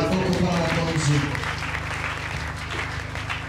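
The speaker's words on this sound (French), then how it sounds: "On a applaudi très fort." Loud applause fills a church congregation, dense and sustained, with voices and tonal sounds mixed in over it.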